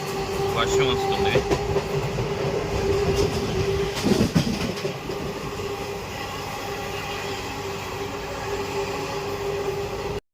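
Steady rumble and rattle of a moving passenger train on the rails, in rain, heard from inside a sleeper coach on the Nagarsol–Shirdi route, continuous and fairly loud with a faint voice in the background.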